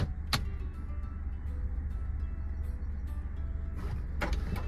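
Electric window glass on a six-year-old Maruti Suzuki WagonR sliding up, a steady near motor whir lasting a few seconds with a couple of sharp clicks at the start and end.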